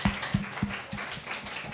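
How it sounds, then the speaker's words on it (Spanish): Applause from a small audience at a public speaking training session, a handful of distinct claps near the start that soon fade into a soft, thinning patter. "nuevamente un aplauso"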